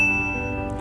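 Single bright notification bell ding, a clear ringing chime that starts sharply and decays over under a second, heard alone without talk.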